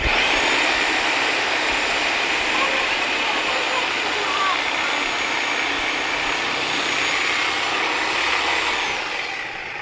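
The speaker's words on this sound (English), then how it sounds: "Then I take the sawzall again, because much faster than trying to cut it any other way" A reciprocating saw cuts steadily through a hog's sternum during butchering, a loud continuous buzzing rasp that holds for nearly ten seconds and eases slightly at the end.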